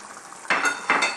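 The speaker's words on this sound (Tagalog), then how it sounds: "I-add na natin ang ating laurel at ang upo." Bay leaf and bottle gourd going into a pan of cooked chicken for Filipino ginisang upo, giving two short bursts of sizzle and stirring about half a second apart over a soft, steady background.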